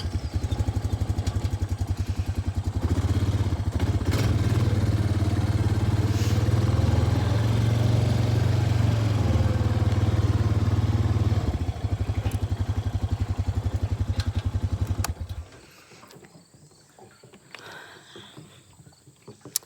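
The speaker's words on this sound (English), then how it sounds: "I've got to move the ATV." A loud ATV engine runs steadily for about fifteen seconds, then cuts off abruptly, leaving quiet outdoor ambience.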